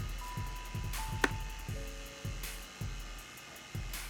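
A stand mixer fitted with a dough hook kneads yeast bread dough for Vietnamese baguettes, its steady motor whine running under a regular, rhythmic thumping as the dough slaps around the bowl.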